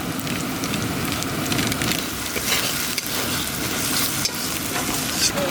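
Garlic, ginger and ground spices including chili, turmeric and coriander fry in a pan and are stirred steadily, a continuous close sizzle with scraping strokes for the whole stretch.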